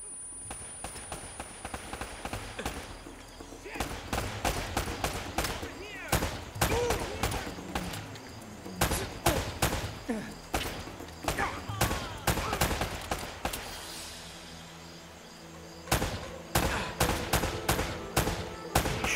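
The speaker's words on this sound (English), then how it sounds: "Shooting all around him." Rapid gunfire from the video game Uncharted: Drake's Fortune, with repeated bursts and single shots cracking loudly throughout, dense clusters broken by brief pauses, over a steady game background.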